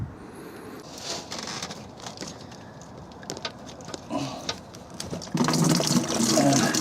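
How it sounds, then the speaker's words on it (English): Engine coolant from a Rover 416GTI drains out into a bucket as a steady liquid patter and trickle that swells into a louder, fuller gush near the end. "drain the coolant. I'm draining it out into this bucket"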